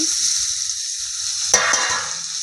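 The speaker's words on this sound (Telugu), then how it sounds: "టమాటాలు కూడా ఇందులో వేసి కలుపుకోవాలి టమాటాలు కూడా ఒక ఐదు నిమిషాలు మంచిగా ఆయిల్లో ఫ్రై అయిన తర్వాత" Hot oil sizzles steadily as tomatoes fry with bottle gourd pieces in a pan, with a single sharp scrape of stirring midway and no talking.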